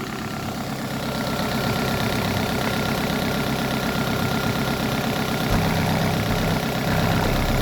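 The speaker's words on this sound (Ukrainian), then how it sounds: "Мотор працює рівно." A Toyota Avensis T25 1.8 1ZZ-FE engine idles evenly and close by, a steady low rumble with a regular pulsing rhythm, running alone without speech.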